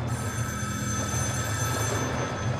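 A telephone rings steadily in Metro: Last Light, a sustained bright ringing tone over a low rumbling background hum, heard alone without voices.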